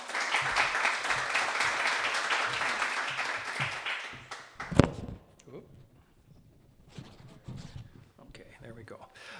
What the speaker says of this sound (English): So give a big round of applause for Bob Vrooman.